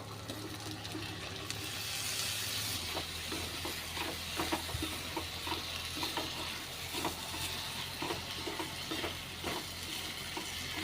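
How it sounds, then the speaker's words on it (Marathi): Bottle gourd sautéing in oil with red chilli masala, a steady close sizzle with repeated scraping stirs of a spatula through the pan and no talk. "तर मस्त परतून घेऊया थोडासा"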